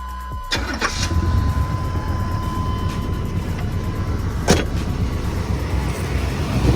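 A 1985 box Chevy Impala with a freshly cleaned, pressure-washed engine bay cranks briefly and fires up, then settles into a steady, close idle with a constant low rumble and a faint whine.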